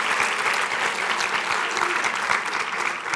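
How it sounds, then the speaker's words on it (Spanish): An audience at a 2019 festival talk breaks into steady, dense applause, loud and close, with no voices over it across the whole stretch. "No saben la alegría que me da que haya gente que le aplauda esto"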